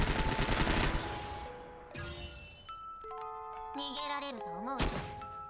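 Dushevnaya's basic attack Daybreak in Girls' Frontline 2: Exilium, a dense burst of rapid gunfire followed by bright chiming, tinkling effects and rising tonal tones, with a final sharp impact near the end.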